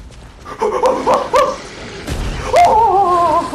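A dog enemy in the video game Lies of P barks and yips several times close by, loud at first, then whimpering tones follow after a brief dull boom.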